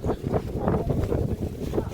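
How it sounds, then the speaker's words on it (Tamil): Strong wind buffets the microphone in a steady, rumbling roar with gusty surges, loud and close, with no voices, outdoors at a borewell repair site in Coimbatore. "காற்று வேறு பயங்கரமாக அடிக்குது"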